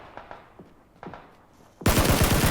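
Sparse distant shots crack in PUBG on Xbox One, then a loud, close burst of rapid automatic fire takes over for the last second.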